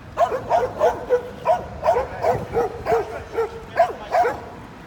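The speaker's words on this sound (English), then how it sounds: "They're barking at this dog." A street dog barks and yips in a steady run of short, sharp bursts, close and fairly loud, with no talking, in Sofia city centre.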